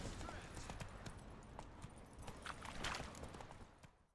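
Geralt's horse Roach clip-clops along in The Witcher 3: Wild Hunt, a steady run of hoofbeats at close range that fades toward the end.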